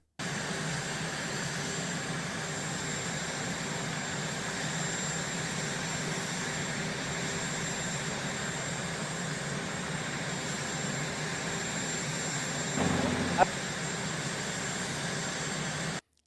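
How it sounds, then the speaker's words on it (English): Jet airplanes on an airport tarmac, a steady, continuous engine roar and whine filling the background at moderate level throughout, with a brief bump near the end and no talk. "We don't got to have the sound of the actual planes in the background."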